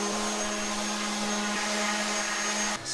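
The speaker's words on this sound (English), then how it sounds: "now we're just going to sand it with a P240" A power sander fitted with P240 paper smooths filler on an MDF edge, a steady, close, droning whine that holds evenly before cutting off near the end.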